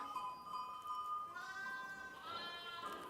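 Goats of the Malagueña and Florida breeds in a herd of about 210 on an extensive farm bleat in overlapping, drawn-out calls, close and fairly loud, with no talking over them.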